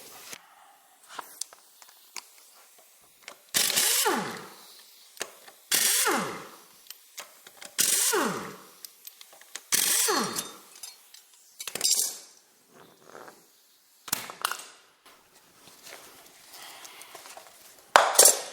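A ratchet working bolts loose on an old John Deere tractor during rear main seal repair, with bursts of clicking ratcheting strokes separated by pauses and metallic tool clinks, close and fairly loud.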